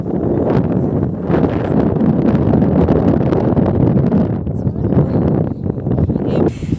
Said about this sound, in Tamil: அலை வந்து பார்த்திங்கன்னா அவ்வளோ ஃபுல்லாக வந்து அலை வந்து இருக்கு